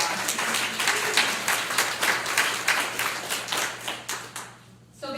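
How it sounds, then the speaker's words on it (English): Audience at an International Women's Day event applauding, a dense burst of clapping that swells and dips in waves before fading out near the end. "So I just want to say applaud yourselves because you are survivors."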